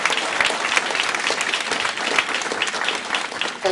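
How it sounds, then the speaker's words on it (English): A board meeting audience applauds students, a dense, even wash of many hands clapping that holds steady throughout, fairly loud, with no speech over it. "So let's give these students a warm applause."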